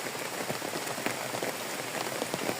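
Steady rain patters on a rural garden house in Thailand's countryside, a dense continuous hiss of drops striking surfaces close by, with occasional louder splats and no voices.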